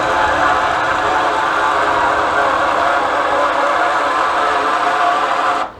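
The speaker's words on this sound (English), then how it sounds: "you can hear the motor's really struggling, and it's moving much slower" A Solera power RV awning motor straining as it retracts, moving slowly; a loud, steady, laboring mechanical whine and hum close by that cuts off at the end.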